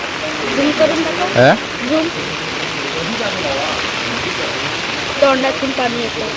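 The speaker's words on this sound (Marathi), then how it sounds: "गाईच्या मुखातून पाणी पडतं तिथे" Water pours steadily from a cow-mouth spout at the Sapteshwar river spring near Sangameshwar in Konkan, a continuous splashing rush with voices of people nearby.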